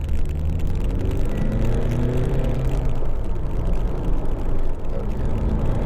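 Honda Accord 2.2 i-DTEC Type S Tourer diesel pulling away and accelerating, a steady low engine drone with road and wind noise building, heard from inside the car.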